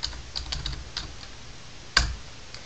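Keys on a computer keyboard are tapped in short bursts while a folder name is entered in Windows 7, a few light clicks early on and then one sharper keystroke near the end, close and quiet.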